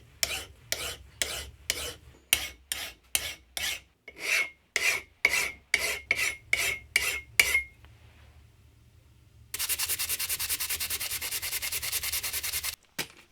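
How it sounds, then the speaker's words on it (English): A hand file chamfers the edges of a metal arm part for a tapping stand, giving close, rhythmic rasping strokes that start fast and regular, slow into longer pulls, then turn into a steady, harsh scraping run. "And finally, some fine chamfers with a hand file finished the arm part."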